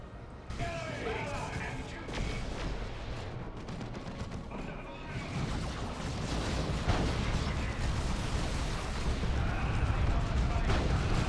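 Continuous battle din from the real-time strategy game Dawn of War II: Retribution, with Space Marines, a plasma cannon and a Cyclone missile launcher: dense overlapping gunfire and explosions that stay loud and build slightly toward the end.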